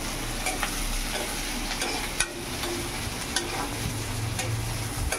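Onion frying in a pan, a continuous close sizzle with a few sharp clinks of stirring and a low rumble building near the end.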